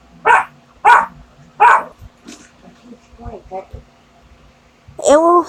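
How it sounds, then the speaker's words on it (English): Three loud barks in a quick rhythm, then softer whimpers and yips, and another bark at the end, close by. "Sorry about that, it was the flippin' dogs."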